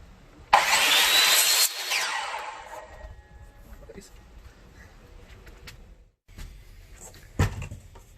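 An FRP panel seam trim for a Toyota camper bathroom is cut, giving a loud rasping cutting burst of about two seconds. Quieter handling scrapes and a sharp knock follow.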